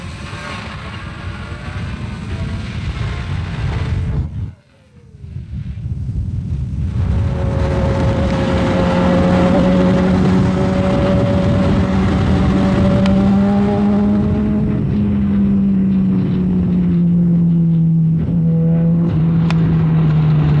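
A 2009 Suzuki GSX-R 600 sportbike engine revs loudly and climbs steadily through the gears, a brief dip around a shift before the rising whine holds strong and close for a long stretch.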